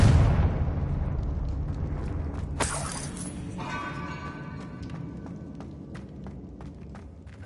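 A Confringo blasting spell goes off in Hogwarts Legacy, opening with a loud low explosive burst that decays, then a bright shattering crack and rumbling debris settling into a lingering hum.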